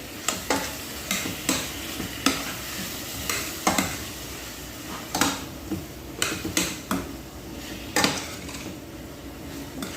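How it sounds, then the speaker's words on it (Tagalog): Chicken and bagoong get stirred in a frying pan, a utensil scraping and knocking against the metal in a brisk repeated rhythm over a constant sizzle, close and clear. "And then, haluin natin ulit."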